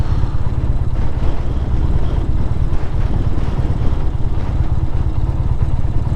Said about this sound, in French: il y a vraiment vachement de vent